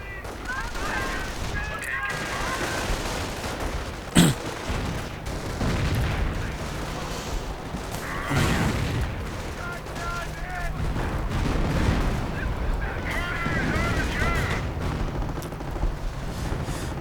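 Gunfire and artillery in a WWII strategy video game with American and German forces, a dense continuous fusillade of rifle and machine-gun fire with booming artillery and one sharp close blast, while someone talks over it.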